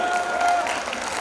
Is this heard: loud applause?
yes